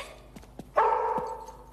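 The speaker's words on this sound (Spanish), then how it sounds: "Por cierto, tiene un ladrido muy fuerte." A dog with a very loud bark gives one sharp bark after a few quiet thumps, close and alone, ringing briefly in a house interior.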